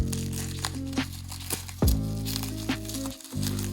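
Bubble wrap crinkles and crackles as it is pulled off a model airliner box, with close, irregular rustling and one sharper snap midway, no talking.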